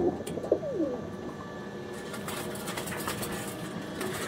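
Andhra and Madrasi pigeons coo close by in low, rolling calls, with a few sharp clatters and a busy loft murmur beneath.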